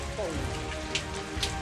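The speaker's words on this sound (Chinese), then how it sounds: "现在下暴雨" Heavy rainstorm pouring down in Guizhou, a steady, dense hiss of rain on surfaces that fills the whole moment at moderate loudness, with a few brief splashes standing out.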